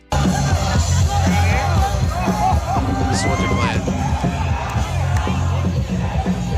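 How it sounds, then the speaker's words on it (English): Mariners fans in packed Seattle streets outside T-Mobile Park roar and whoop while some crowd surf. The dense, continuous cheering is loud and close, and a voice speaks briefly over it. "the fans outside T-Mobile were going nuts"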